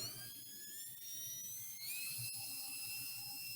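DeWalt 20V cordless drill spinning up as its trigger is pressed, a thin, fairly quiet motor whine that holds steady and then rises in pitch partway through as speed increases, heard alone.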